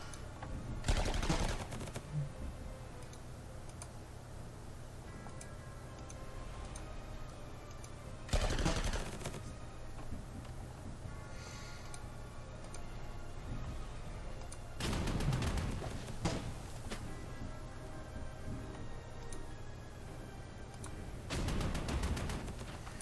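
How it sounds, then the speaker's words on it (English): Heavy booming KV-2 tank cannon blasts in the video game Panzer Corps 2 fire at intervals of several seconds over a steady background din of distant battle noise. "You also must have thunderous KV-2 cannon noise."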